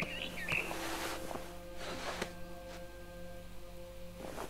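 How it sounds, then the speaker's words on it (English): Short barn swallow chirps and tweets in What Remains of Edith Finch sound near the start over a steady electronic hum and layered game tones. "Then I heard chirping outside my window. It was a barn swallow going back to her nest."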